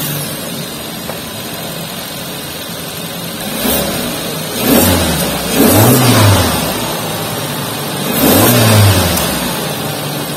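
A Suzuki Ertiga Sport FF with a 1.5-litre K15B engine idles, then is revved three times in close succession, each rise swelling and falling back to a steady idle, recorded up close.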